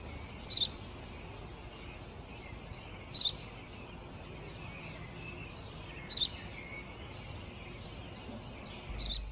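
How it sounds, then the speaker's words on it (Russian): A sparrow chirps in short, sharp bursts at irregular intervals, about a handful of calls, fairly near against a low outdoor background hum. "Воробей."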